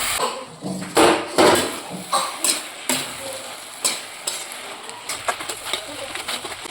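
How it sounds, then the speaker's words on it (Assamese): Potatoes frying in a pan over low heat with drumsticks being cooked, loud crackling sizzle with repeated scraping stirs and clinks of a utensil against the pan, close and busy throughout. "এইখিনি মই কম জুইত ভাজি ল'ম যেতিয়ালৈকে মানে আলুখিনি সিজি নাযায়।"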